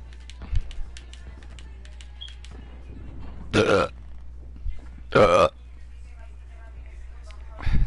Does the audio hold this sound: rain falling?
no